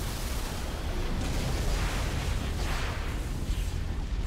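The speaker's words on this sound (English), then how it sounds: "I'm gonna watch it explode." Bombing-run explosion in the video game Halo Reach, a loud sustained rumbling blast that fills the whole stretch with dense, roaring low noise and no talk.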